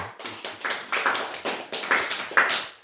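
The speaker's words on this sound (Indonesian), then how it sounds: "Tepuk tangan dulu." An audience at a religious talk claps hands, a dense run of overlapping claps that rises and falls for a few seconds, close and steady.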